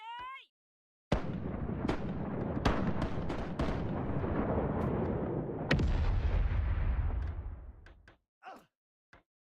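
Naval cannons fire in World of Warships, a rolling barrage of booming gunshots and explosions that sustains for several seconds before fading, followed by a few scattered later shots.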